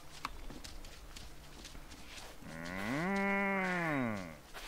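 A cow in the farming game Wylde Flowers gives one long, rising and falling moo that swells loudly after a couple of seconds of soft background ambience.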